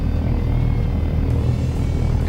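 Simulated helicopter in the flight game Take On Helicopters, a steady loud low rotor and engine drone holding evenly throughout with no pauses, no voices present.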